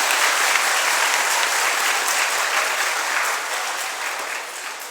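Audience applause at a Hindu anniversary celebration during a religious sermon, a dense, steady clapping from a large crowd that fills the whole stretch and tapers slightly toward the end.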